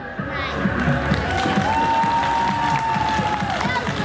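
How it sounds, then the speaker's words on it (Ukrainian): Audience at a Ukrainian televised talent show applauds and cheers loudly throughout, with a host's voice and a sustained tone heard over the crowd. "Ваші оплески, пані та панове"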